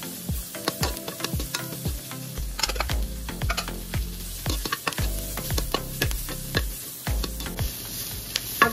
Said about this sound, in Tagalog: Tapos, ilagay ko na yung ating sibuyas.